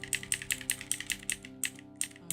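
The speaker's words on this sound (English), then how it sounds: "sorry about the keyboard noises." Computer keyboard keys clatter in quick, irregular bursts of close, crisp clicks, steady and fairly quiet, with no voices over them.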